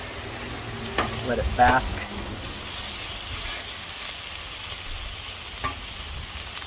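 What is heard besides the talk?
butter sizzling on a griddle top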